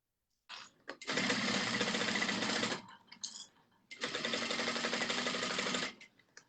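A sewing machine stitching a mini moto bag runs in two steady bursts of rapid, even clattering, close and moderately loud, with a short pause and some handling noise between runs and no talking.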